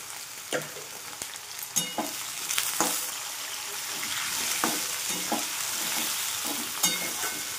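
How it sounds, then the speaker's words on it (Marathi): Drumstick pods fry in oil with salt, giving a continuous close sizzle broken by intermittent clinks and scrapes of a spoon stirring in the pan. "मस्त फ्राय करायचं तेलात आणि मिठात।"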